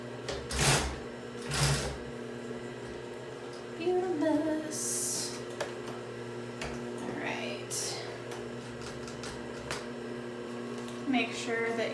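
Sewing machine stitching a car shift boot, a soft steady mechanical whir under a low hum, with a few scattered handling knocks and faint voice sounds nearby.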